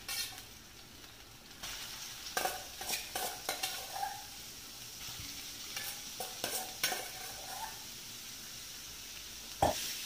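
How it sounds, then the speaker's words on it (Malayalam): Sliced onions with salt, added after ginger-garlic paste, sauté in a pan with a steady sizzle, broken by repeated scraping stirs of a utensil and a few sharp clinks against the pan, close and moderately loud with no talking. "ഇത് വാടി വരാനായിട്ട് കുറച്ച് ഉപ്പും കൂടെ ഇട്ട് കൊടുത്തിട്ട് നല്ലോണം ഒന്ന് വഴറ്റിയെടുക്കാം."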